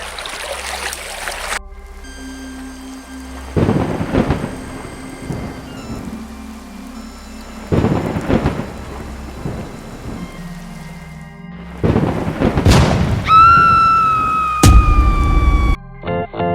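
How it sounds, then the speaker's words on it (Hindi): Heavy rain pours steadily while several loud thunderclaps crash at intervals, the last one sharp and close. "अचानक से यह इतनी तेज बारिश और बिजली की आवाज"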